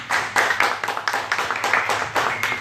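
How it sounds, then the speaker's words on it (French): Live audience at a French wine-and-poetry writing contest clapping in a warm round of applause, a dense close patter of hands with recurring swells and no voices over it. "On peut l'applaudir."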